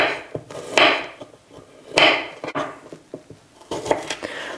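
Garlic being chopped into small pieces with a knife on a board, a few sharp close cuts at irregular intervals with quieter taps in between, no voices.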